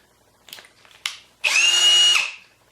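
A handheld power drill, first a couple of short clicks and taps, then one loud burst of the motor whining at steady speed for under a second before spinning down, close and alone.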